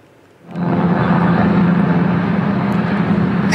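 Engine drone of a FASI (Federasi Aerosport Seluruh Indonesia) training aircraft flying over a public cemetery in Ciampea, Bogor, West Java, just before it crashed; a steady, loud hum rises in quickly and then holds, with no talking.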